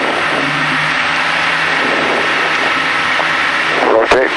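A small training airplane's engine runs at full throttle as a steady loud drone heard from inside the cockpit, with a brief thump near the end.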